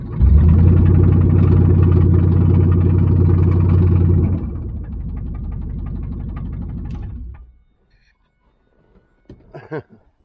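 A 1996 Pontiac Trans Am, bought cheap and fitted with an automatic instead of the original 6-speed, runs loud and close with a deep engine drone. The drone drops to a lower steady run, then cuts off, followed by brief handling noises.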